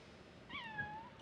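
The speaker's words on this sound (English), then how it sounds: "there's my cat" A cat lets out a single short, faint meow in a quiet room, with no talk.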